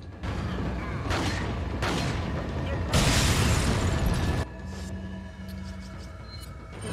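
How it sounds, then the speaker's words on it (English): A grenade blast in Resident Evil 4 bursts into a loud, broad roar that sustains for over a second before cutting off, set amid continuous game noise and a voice talking. "use one real grenade here."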